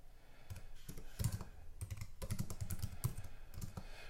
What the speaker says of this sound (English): we'd simply type the details of the event in this space